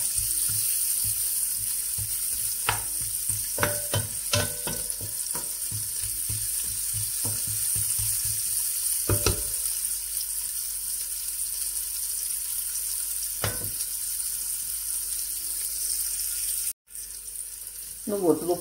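Onions sizzle steadily in a hot pan while a utensil clatters and scrapes against it several times, with a short break near the end.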